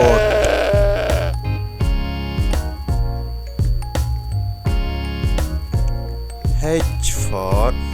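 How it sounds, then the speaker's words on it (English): Goat bleats set among a cheerful alphabet song with rhythmic music and chimes, a couple of wavering bleats standing out near the start and end. "G for goat."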